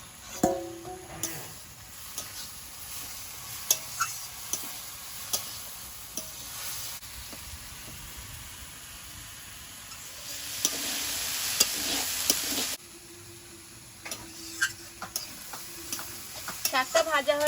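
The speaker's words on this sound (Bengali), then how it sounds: "শাকটা একটু আলগা করে নেড়ে দেবো।" Kalmi greens frying with onion and green chilli in a pan, a steady sizzle broken by repeated stirring scrapes and utensil taps, swelling louder for a stretch before settling back.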